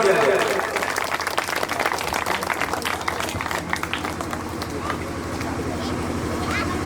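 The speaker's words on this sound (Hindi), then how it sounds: "जोरदार तालियों से स्वागत किया जाए।" At a village panchayat Hanuman Jayanti gathering, a crowd gives loud, sustained applause to welcome the chairman. Dense clapping continues throughout with background crowd chatter.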